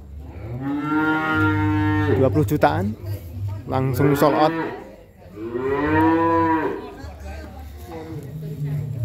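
Cattle at a farm raising young beef stock let out two long, loud mooing calls close by, with a deep low drone between them, while someone talks over the animals.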